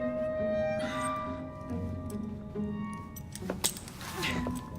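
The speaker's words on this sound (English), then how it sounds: "Now hand over your keys." Keys jingle and clink in a short metallic burst as they are handed over in the video game Assassin's Creed Syndicate, a brief chink set against a low background hum.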